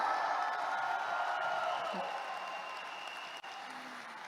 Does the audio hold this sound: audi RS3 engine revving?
no